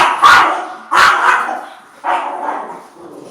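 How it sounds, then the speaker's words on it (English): A dog that attacks people barks three times in close, loud succession, each bark sharp and followed by a short trailing tail, with no talking. "yes, the dog is uncomfortable"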